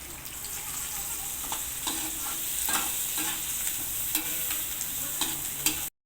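Curry is stirred and mixed in a hot pan while cooking kurma for biryani rice, with a continuous soft sizzle and regular scraping strokes of a spoon close by.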